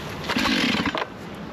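A Stihl chainsaw engine on full choke fires briefly on the first pull start, a short loud burst of rasping combustion that cuts off after about a second, leaving a low steady hiss.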